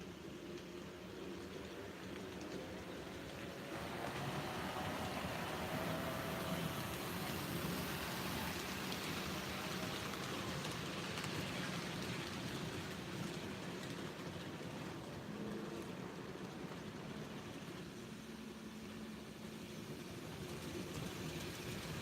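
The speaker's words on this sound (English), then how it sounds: "You guys want to see a train? I've got one coming through." A model train runs on a home layout, heard as a steady, continuous mechanical rumble and whir that holds throughout at a moderate level, swelling slightly after the first few seconds, with no voices.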